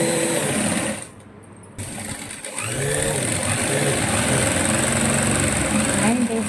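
A sewing machine hums in rapid close runs while stitching a boat neck blouse. It stops briefly, then restarts, with a voice talking over it.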